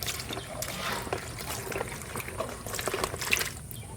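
Water splashes and trickles continuously over freshly cut river fish from the Bhairab being rinsed clean, a steady close wet sound with small splashy bursts throughout and no talking.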